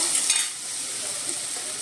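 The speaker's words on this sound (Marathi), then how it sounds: "गॅसवरच आपण हे सर्व फोडणी करणार आहे" Green chillies temper in hot oil in a pan on a gas stove, giving a bright sizzle that is strongest at the start and then settles into a steady, softer hiss, with no voices.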